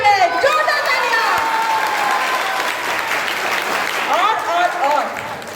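A crowd claps loudly and steadily for the narrator of a children's Krishna Janmashtami drama staged by a class, with scattered voices and whoops rising over the applause throughout.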